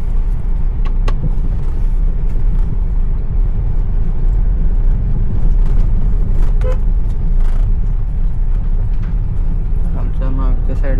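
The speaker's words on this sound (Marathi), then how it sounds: "आमच्या मागच्या साईडला एक कार आली." A car comes up from behind on a road near Agonda and Cola Beach in Goa, a steady engine and tyre rumble amid wind noise while people talk over it.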